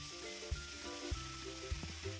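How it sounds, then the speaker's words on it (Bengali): Bay leaves and a ground spice paste fry in oil with a soft, steady sizzle, a faint droning hum behind it and a few low knocks from the pan. "তেল অ্যাড করে দিয়ে আমি 2টো তেজপাতা ফোড়ন দিয়ে দিয়েছি। ফোড়ন দিয়ে পেস্ট করে রাখা মশলা দিয়ে দিয়েছি।"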